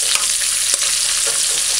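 Sliced onions fry in a hot pan with a steady, dense sizzle and crackle, close and loud throughout, with a few brief stirring scrapes and no talk.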